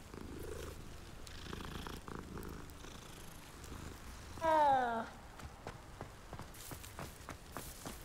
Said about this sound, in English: Beautiful Siamese cat.